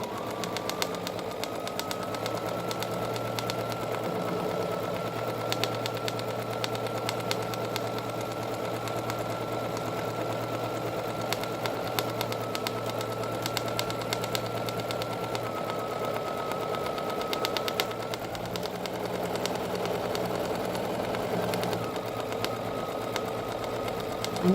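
A Bernina sewing machine quilting curved crosshatching with a round ruler hums steadily and continuously at a close, even pitch for the whole stretch, with slight variations in speed and no talk.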